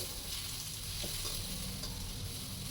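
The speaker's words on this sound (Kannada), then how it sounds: "ಇದಕ್ಕೆ ಟೊಮೊಟೊ ಸಣ್ಣದಾಗಿ ಕಟ್ ಮಾಡ್ಕೊಂಡಿದ್ವಲ್ಲ ಅದನ್ನು ಹಾಕೋಬೇಕು ಹಾಕ್ಕೊಂಡು ಅದನ್ನು ಚೆನ್ನಾಗಿ ರೋಸ್ಟ್ ಮಾಡ್ಕೊಳ್ಳೋದು" Chopped tomatoes roast in hot oil in a pan for a radish chitranna, giving a soft, steady sizzle that stays faint and even throughout with no talking.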